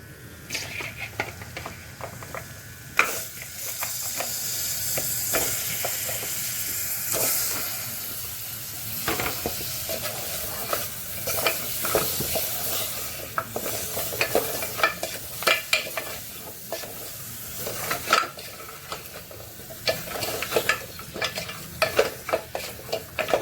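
Cleaned goat legs go into a pot of fried onions and sizzle as they are stirred, with a constant hiss under repeated scraping and clattering strokes, close and moderately loud, no voices.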